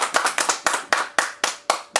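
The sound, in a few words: audience applause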